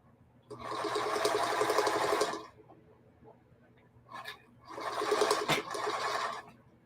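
A sewing machine stitches straight across the square bottom of a feedsack hobo bag through fabric and batting layers, running in two steady bursts of about two seconds each with a short pause between.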